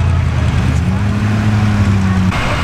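A running 1968 Dodge car engine hums steadily and close at the 2019 Fettercairn Show vintage vehicle parade in Aberdeenshire, with people talking over it.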